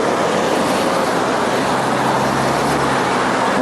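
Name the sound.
city traffic with trolleybuses and buses in Chisinau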